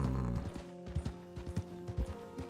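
A horse's hooves clip-clop in Red Dead Redemption 2, a walking rhythm of distinct close thuds about every half second over a low ambient hum, with no talk.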